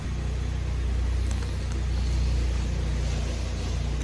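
A car idles and pulls out with a steady low engine rumble and broadband road noise, close and constant for the whole stretch, with no talking.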